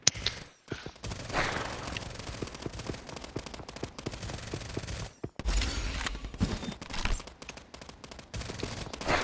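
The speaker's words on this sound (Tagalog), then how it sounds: "may mga barilan" Rapid bursts of automatic gunfire and scattered single shots in a battle royale video game firefight, loud and continuous with brief lulls, some shots near and others more distant.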